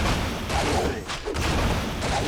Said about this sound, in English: Panda very good in the base race with that breath of fire against the buildings.